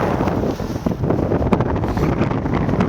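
Strong wind buffets the microphone at Gwangchigi Beach on Jeju Island, a loud, continuous rumbling gust that fills the whole moment without any talking.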